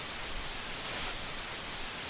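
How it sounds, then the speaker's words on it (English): Steady broadband hiss of analog TV static on an empty channel, constant and fairly loud throughout, with no voices. "TV sounds. When there's nothing on TV. TV static."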